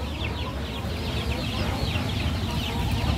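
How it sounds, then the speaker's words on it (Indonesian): Many three-week-old chickens in a coop cluck and chirp together in a steady, busy chatter, close by and continuous throughout. "Ini ayam-ayam saya yang sudah umur ini 3 minggu plus."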